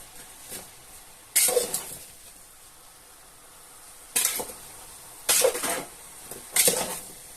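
A pot of peeled zucchini with salt, sugar and garlic is stirred in four short scraping, clattering bursts, close and fairly loud, with quiet pauses between them and no talking.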